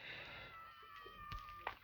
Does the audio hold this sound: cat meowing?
yes